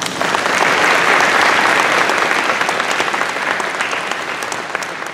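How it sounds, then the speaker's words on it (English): An audience at a police chief's meet-and-greet event gives a sustained round of applause, dense clapping near and loud, easing slightly toward the end. "I want to give them a special recognition, a round of applause"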